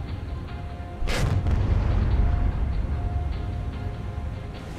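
A single heavy boom of warship naval gunfire in the War on the Sea game, a sharp loud report followed by a long low rumble over steady ambient sea and engine noise.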